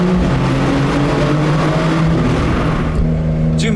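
A Porsche 911 (992 generation, turbocharged) engine revs loud and close, a steady throaty exhaust roar that builds and holds with no talking.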